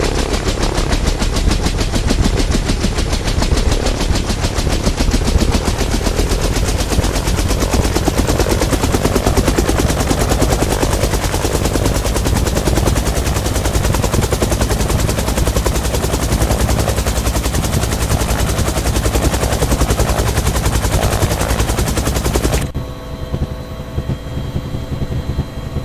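A UH-1 Huey helicopter in the DCS World flight game runs up its engine, giving a loud, continuous, dense rotor thudding over a turbine roar that holds steady and then cuts off abruptly near the end.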